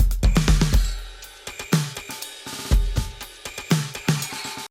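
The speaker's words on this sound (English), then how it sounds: "you want your snare to sound like this using technique number 2" A compressed snare drum played in a rhythmic beat, with sharp, punchy hits repeating every half second or so. The snare is loud and up close, and no voice is heard.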